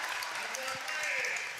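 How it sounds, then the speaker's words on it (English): The Sully Buttes crowd cheers as the starting lineup is introduced on a Tuesday night in Gettysburg, a brief, steady roar of noise in a gym with a voice speaking over it. "let's listen to this Sully Buttes crowd as their starting lineup is about to get introduced here in this one"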